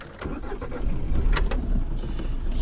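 A taxi car pulling away, with engine rumble rising as it starts off and drives, steady road noise close by, with a few light clicks at the start.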